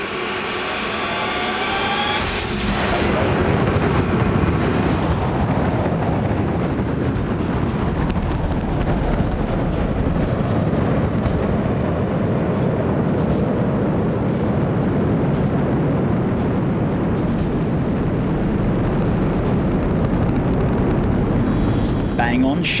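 A large space rocket carrying a huge satellite blasts off, a massive continuous roaring rumble that swells in after a few seconds and holds loud and steady, with faint crackle throughout.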